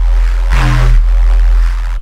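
A synth bass made in Phase Plant plays as a loud, deep sustained tone that swells brighter midway, then cuts off abruptly after about two seconds.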